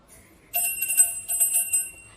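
A small bell like the ringing hand bell used by the mother in the Indonesian horror film Pengabdi Setan, heard as bright sustained metallic ringing that starts about halfway in and keeps sounding with a shimmering tone.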